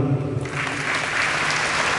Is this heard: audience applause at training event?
yes